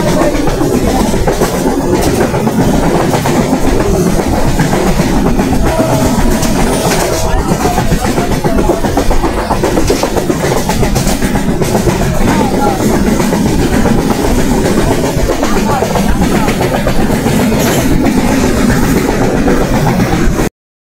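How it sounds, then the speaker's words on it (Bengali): A passenger train runs fast on the Rajshahi to Chatmohar line, a loud, constant rumble and rattle from inside the carriage with steady wheel clatter throughout. "আমাদের ট্রেন দুর্বার গতিতে গিয়ে চলছে"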